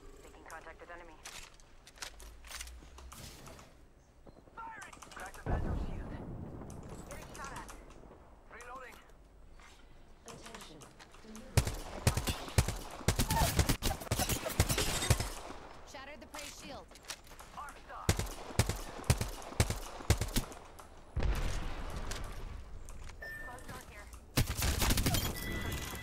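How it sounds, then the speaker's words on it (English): Gunfire in Apex Legends erupts in irregular bursts, with sharp rapid volleys and single cracks separated by quieter gaps, loud and close, mixed with game effects and occasional talk. "Making contact with enemy. Firing!"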